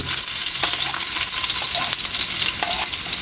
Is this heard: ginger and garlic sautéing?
yes